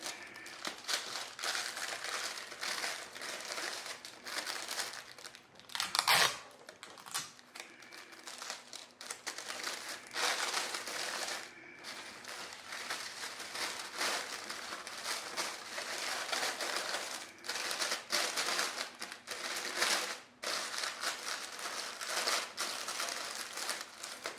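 Shrink wrap crinkles around a gift basket in a long, close stretch of crackling and rustling, with one sharp louder crunch partway through.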